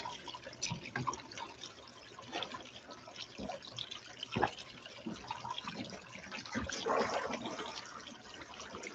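Water trickles and drips as it is poured to top off a container beside a sluice during a prospecting run on icy ground, a steady faint splashing with a fuller pour near the end.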